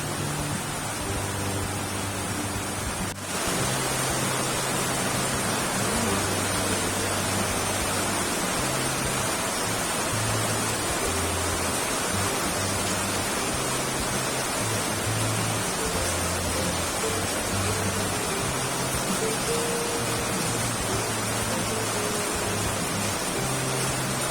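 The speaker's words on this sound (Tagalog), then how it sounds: "Ay, naku ang ulan." Heavy rain pours steadily during a typhoon, a dense, unbroken hiss that stays loud and even throughout, with a low intermittent hum underneath and no talking.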